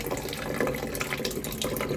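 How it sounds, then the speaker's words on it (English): Water flows into a toilet cistern through a ball valve, a steady close rushing and trickling fill with no voices. "water is coming into the cistern"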